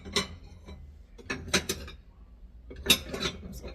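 Ceramic plates and bowls are picked up and set down in a kitchen, a handful of sharp clinks and knocks in separate bursts with quiet pauses between.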